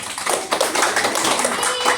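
Vocational-school students in a classroom clap for a classmate, a dense patter of close clapping blended with voices talking over it.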